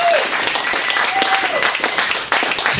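A live audience at an evening show bursts into loud, sustained applause, with voices and a high whistle rising above the clapping.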